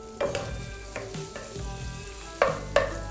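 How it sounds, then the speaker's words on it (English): Onions and capsicum frying in a pan, a soft steady sizzle broken by several clanking spatula strokes, two sharper knocks near the end, close by with no talk. "Just fry it for 1 minute."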